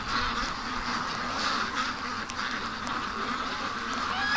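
Muscovy ducks out in a yard give a steady run of soft quacks and calls, fairly near and continuous, with no one talking over them.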